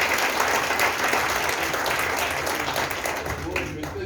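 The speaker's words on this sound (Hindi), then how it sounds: "एक बार सबके लिए जबरदस्त ताली होगी।" An audience gives hearty applause at a health products presentation, a steady dense wash of many hands clapping throughout, loud and even with a faint voice underneath.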